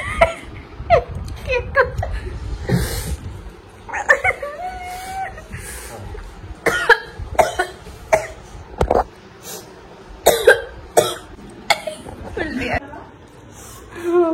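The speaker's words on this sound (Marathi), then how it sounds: "खोकले आले." Repeated bursts of coughing after eating an extremely hot chili chip, some hard and some muffled, mixed with throat clearing, chuckling and a little speech between fits.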